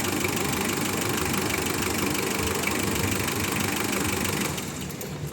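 A Mitsubishi Adventure diesel engine runs at a steady, loud rough idle with a constant knocking chug, close by, then eases slightly quieter near the end.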